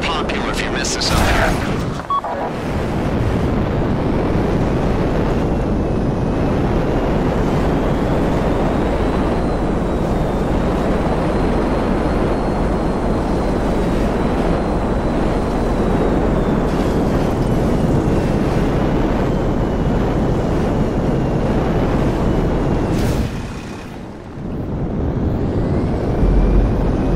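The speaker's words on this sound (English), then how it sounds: "So be careful landing the Hydra." Hydra jet in GTA 5 Online coming in to land, a loud, steady engine roar that holds for nearly the whole stretch, with a sharp burst near the start and a brief dip toward the end.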